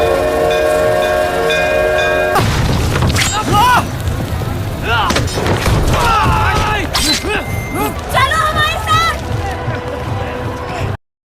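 A train at a station in a dramatic film scene, with loud rumbling carriages, a horn and whistle-like tones, and crashing effects layered over music and voices throughout.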